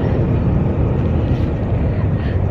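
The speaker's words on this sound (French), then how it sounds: "On est à côté de l'aéroport, c'est pour ça qu'il y a du bruit." Steady loud engine drone from aircraft next to Los Angeles airport, a broad low rumble filling the whole stretch without pause.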